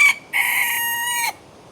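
A wild junglefowl (labuyo) rooster crows once, close and clear: a brief opening note, then a drawn-out, ringing call lasting about a second before cutting off into quiet.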